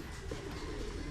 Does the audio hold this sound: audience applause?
no